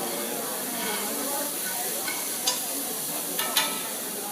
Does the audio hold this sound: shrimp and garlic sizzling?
yes